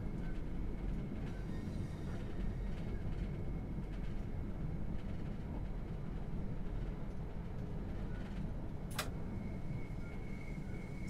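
A train in a railway simulator game rolls along steadily at moderate speed, a continuous low rumble of wheels on track with a brief sharp squeal or click near the end, no talking.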